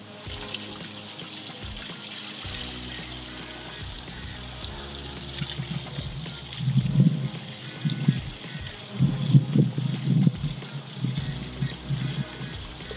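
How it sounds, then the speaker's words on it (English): Smoked poultry bone broth poured from a pot through a bouillon strainer into a stock pot, a steady liquid trickle that swells into heavier splashing gurgles partway through, close and moderately loud with no talk. "I'm just gonna pour this through the bouillon strainer into the new stock pot."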